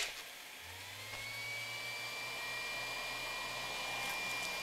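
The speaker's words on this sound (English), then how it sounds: "I have this electric heater over here. I'm just going to crank that on high and see what happens." An electric heater switched to high runs alone with a steady blowing whir and a low hum that starts just after the beginning and holds evenly throughout.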